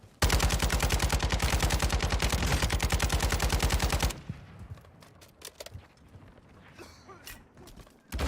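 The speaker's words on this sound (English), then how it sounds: "Shooting." Rapid sustained automatic gunfire from an RPK in a battle royale shooter, loud and evenly paced for about four seconds, then stopping and giving way to quieter scattered clicks and small impacts.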